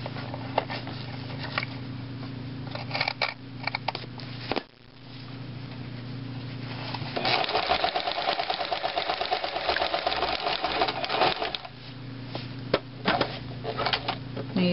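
A sewing machine stitches piping onto a cushion cover, joining the top to the boxing strip: a steady close motor whir, briefly stopping just before the five-second mark, then running harder and busier through the middle before easing.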